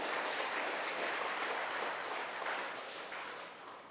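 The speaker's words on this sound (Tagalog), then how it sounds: "Sige po, yung malakas na palakpak sa Lord." A church congregation applauds the Lord, steady broad clapping that fills the room for a few seconds and then slowly fades, with no voices over it.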